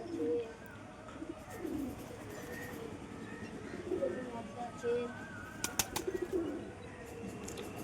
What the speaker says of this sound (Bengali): মামার পায়রা দুটো কিন্তু হাই ফ্লাইন, দেখতে পাচ্ছ বন্ধুরা